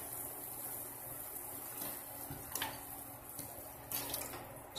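Water poured into a pan of stir-fried ampalaya with quail eggs makes a faint, steady splashing and running sound with a few soft clinks.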